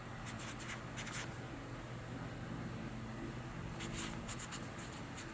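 Pen strokes scratch on paper in short, quiet bursts, faint against a steady background hiss, with no talking.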